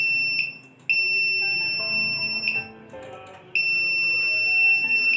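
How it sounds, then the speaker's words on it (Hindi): An Arduino Nano smart shoe's buzzer beeps loudly with a steady high electronic tone in repeated bursts, sounding as an object comes within 50 centimetres, with a brief gap between tones. "50 सेंटीमीटर के एरिया में जो भी कोई ऑब्जेक्ट आएगा तो ऑटोमेटिक बजर आवाज़ करने लगेगा"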